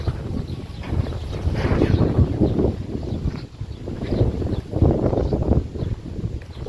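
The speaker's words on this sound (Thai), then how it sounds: "ลมแรงพี่น้องเลย" Strong wind blowing outdoors past trees and a pond, a loud rushing roar battering the microphone in repeated gusts that rise and ease across the whole stretch.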